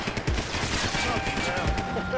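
Assault rifle gunfire in the video game Max Payne 3 rattles as a steady fusillade throughout, with a busy game mix and voices underneath.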